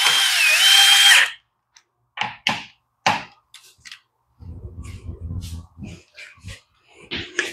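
A power drill drives screws into the plastic fuel tank of a Yard Machines tiller, with short whirring bursts starting and stopping close by and a lower rattling run near the end, between pauses.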